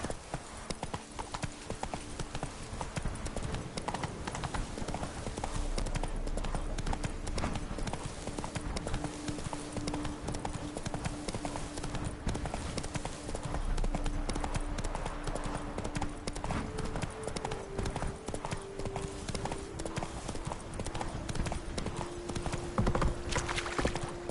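Roach the horse galloping in The Witcher 3: Blood and Wine, a steady, dense drumming of hoofbeats that continues throughout, with a low tonal game score underneath.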